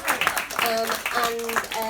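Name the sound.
audience applause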